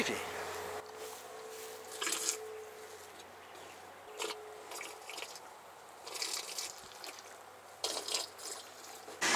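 Milk flows through mechanical milking equipment as cows are milked on a farm. Intermittent dripping and trickling liquid sounds come in short bursts, with occasional voices nearby.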